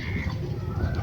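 Pigeons coo softly and continuously from a backyard loft in the afternoon, low murmuring calls layered close and steady with no talking.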